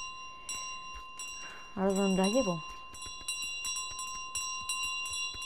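A sacred bell carried by the goose in Untitled Goose Game rings in a few short, clear chimes amid steady game ambience, while a person speaks over it for part of the time.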